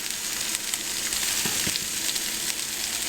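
Meat fries in a pan with a loud, steady crackling sizzle, close and continuous, broken by a few faint taps, with no voices.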